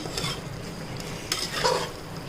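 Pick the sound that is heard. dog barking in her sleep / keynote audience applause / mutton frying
mutton frying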